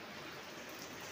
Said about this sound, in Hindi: बारिश देखें यार कितनी ज़्यादा हो रही है।